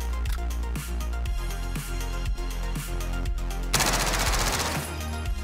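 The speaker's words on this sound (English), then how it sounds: "that recoil of the PPSH is gnarly" Rapid full-auto bursts from a PPSh submachine gun in the Warzone video game, loud and close, with repeated rattling volleys and a dense burst of noise near the end.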